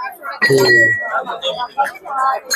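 Miniature steel toy pots from a three-piece cooking set clink together in a few bright metallic knocks and rings, close by, with a voice talking over and around them.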